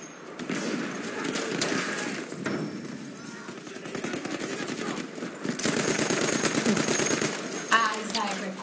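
Rapid automatic gunfire and bursts of shots from a video game, loud and sustained throughout, with a player's voice talking over the action.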